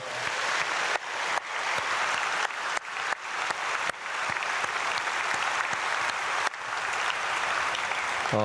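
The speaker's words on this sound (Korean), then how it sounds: "박수하겠습니다" Sustained applause from a church congregation at an early-morning prayer service, broad and steady throughout, broken by several brief dips, with no voices over it.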